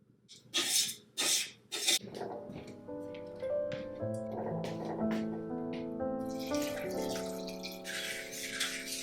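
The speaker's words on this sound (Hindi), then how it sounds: "मैं हमेशा गर्म पानी ही ऐड करती हूँ" Hot water is poured into a pot of rice with Kashmiri chili powder, garam masala and salt, a splashing pour preceded by a few sharp bursts, while a piano melody plays throughout.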